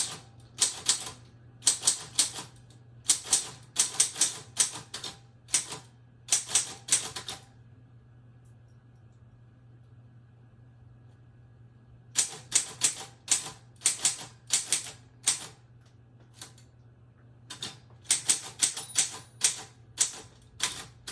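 Keys clatter in quick, irregular bursts of typing close by, with a pause of several seconds in the middle before the rapid tapping resumes, steady and alone over a faint low hum.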